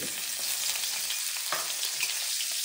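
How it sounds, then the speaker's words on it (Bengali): Bitter gourd fries in oil over a medium flame, giving a continuous loud crackling sizzle with a few soft stirring knocks, close up and uninterrupted by speech. "মিডিয়াম ফ্লেমে উচ্ছেটাকে লাল লাল করে ভেজে নিতে হবে"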